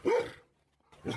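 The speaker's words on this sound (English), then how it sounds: "That was a huge bark right there." A tiger gives one loud, close, rough bark-like roar, which drops off into silence before a second shorter burst begins.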